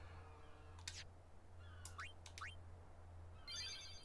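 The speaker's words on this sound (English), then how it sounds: "There's some birds chirping." Birds chirping outdoors: a few short, high, distant chirps and tweets in separate bursts over a low steady hum, faint and without talk.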